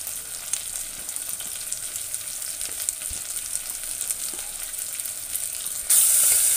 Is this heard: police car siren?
no